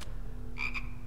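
A frog croaking in the video game Immortal Redneck, two short close croaks in quick succession over a low steady game hum, with no talk.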